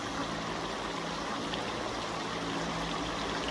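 Water falls continuously from a two-ring digital water curtain in Dubai, UAE, making a steady, even splashing rush that stays at the same level throughout, with no voices.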